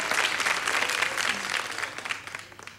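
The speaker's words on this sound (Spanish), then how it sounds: "Aplausos para Daniel Encina." Applause from an audience at a tribute show for Daniel Encina: dense, steady clapping that fades slightly toward the end, with a few sharper claps standing out.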